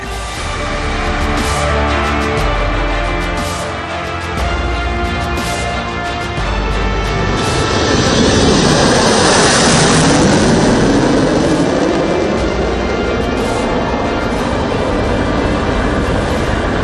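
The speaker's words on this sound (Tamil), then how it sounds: "சுகோய் 30, மிராஜ் 2000 விமானங்கள் மற்றும் Mi-17 V5 ஹெலிகாப்டர்கள் இந்த ஒத்திகையில் பங்கேற்றன." Sukhoi Su-30 and Mirage 2000 fighter jets and Mi-17 V5 helicopters come in to land on an expressway in Uttar Pradesh during an Indian Air Force drill, a loud continuous roar that swells and sweeps past around the middle.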